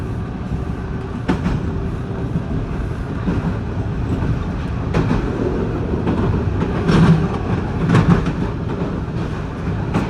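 A Toronto TTC subway train rides along Line 2, with a loud, steady rumble broken by occasional clicks and clacks of wheels over rail joints.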